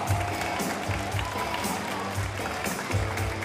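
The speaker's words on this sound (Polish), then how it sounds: "Wielkie brawa." An audience at a women's volleyball Ekstraklasa event in Koszalin applauds as a player is introduced. The clapping is steady and continuous, with a few stronger bursts and some crowd noise mixed in.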